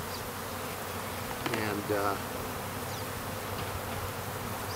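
Honey bees buzzing in a hive, many clumped together and some stuck in honey, a dense steady hum close by with a brief spoken word partway through.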